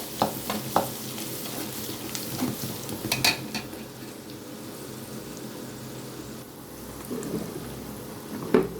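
Chili and turmeric powder sizzle in hot oil with a steady, close crackling hiss, broken by a few sharp stirring scrapes and clinks of a spoon against the pan, with no talking.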